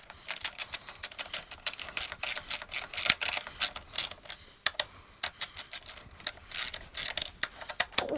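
A half-inch ratchet clicks in quick repeated bursts while tightening bolts on plastic parts in a home shed, crisp close pawl ticks in uneven runs with short pauses between strokes.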